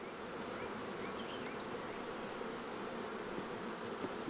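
Dense, steady hum of honey bees swarming around an open hive during a brood-frame inspection, a constant near buzz with no talking.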